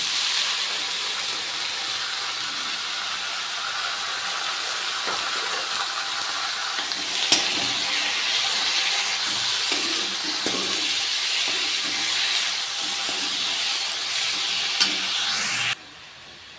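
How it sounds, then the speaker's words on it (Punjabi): Chopped onions hitting hot mustard-oil tempering for a lobia (cowpea pod) sabzi give a steady, loud, hissing sizzle that runs unbroken for about sixteen seconds before cutting off abruptly. "ਹੁਣ ਆਪਾਂ ਇਹਦੇ ਵਿੱਚ ਐਡ ਕਰ ਦਾਂਗੇ ਜੀ ਕੱਟੇ ਹੋਏ ਪਿਆਜ਼"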